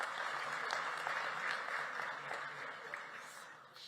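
Audience applause for a choir from the Tshwane University of Technology at an election campaign launch, a steady wash of many hands clapping throughout, fairly loud and sustained before easing slightly near the end.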